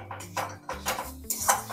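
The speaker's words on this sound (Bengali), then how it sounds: "তাকে নেড়ে চেড়ে ভালো করে গুড়টাকে আমি গলিয়ে নিচ্ছি" A spoon stirs jaggery melting in a pot for palm-fruit puli pitha, giving four or five quick scraping clinks of metal against the pot in a short, close burst.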